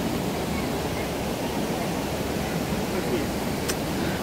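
Flowing water rushing across a path, a dense continuous roar like a small stream or torrent, steady and close throughout.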